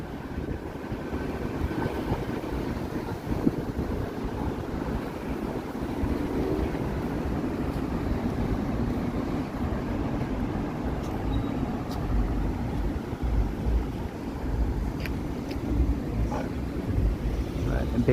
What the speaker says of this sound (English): Oh, I do have a nice wind blowing in my face here.